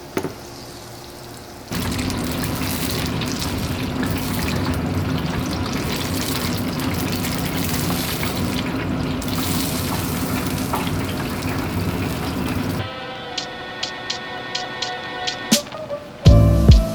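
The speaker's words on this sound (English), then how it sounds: "Now let's fry up the rest of these bad boys." Calico bass fillets fry in a fryer with a loud, steady sizzle and crackle of hot oil that runs for several seconds, then cuts to quieter clinks and handling sounds.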